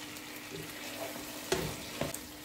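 Turkish-style chicken cooks in a pan over a high flame to reduce extra liquid. A faint, steady sizzle runs throughout, broken by a few soft knocks of stirring and no voices.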